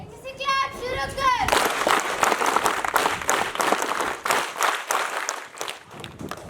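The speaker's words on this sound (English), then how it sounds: "Give them a huge round of applause." A voice speaks briefly before a school audience at a Toastmasters club bursts into lively clapping, loud and uneven, with children's voices mixed into the applause.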